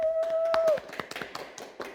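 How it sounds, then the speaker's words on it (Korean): A church children's service audience claps in a steady patter of sharp hand claps after a brief sustained tone, the claps fairly close and continuing to the end. "박수!"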